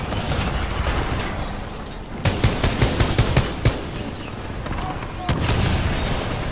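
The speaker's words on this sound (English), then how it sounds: "I like my AR / sniper rifle thingy majigger." Rapid bursts of gunfire from an AR / sniper rifle in the video game Titanfall 2, sharp repeated shots clustered in the middle over a dense, noisy battle background, with a lone later shot.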